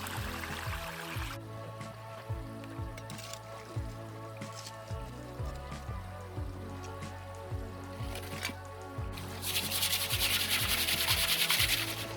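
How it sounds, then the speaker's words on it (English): Clay balls are rubbed by hand during creek sluicing at Slaty Creek, giving a steady, close, gritty rubbing with repeated soft strokes and a rougher swell near the end. "Just rubbing my clay balls."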